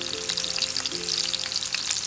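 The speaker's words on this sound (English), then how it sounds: "Check out that sizzle." Chicken pieces sizzle and fry in a hot pan, a steady, dense crackle of spitting oil that holds without a break and is heard alone.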